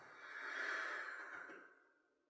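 A single slow exhale during a calming yoga practice, a soft breathy whoosh that swells and then fades over about two seconds, close and quiet.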